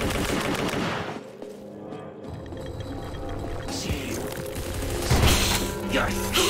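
Gunfire in the Hellslinger shooter game: rapid bursts of shots with mechanical clatter over a dense, loud game soundscape, with a person talking throughout.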